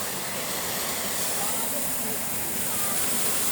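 Constant rushing roar of a waterfall at Epcot, a dense close hiss of falling water with no breaks, with people's voices blended into the noise.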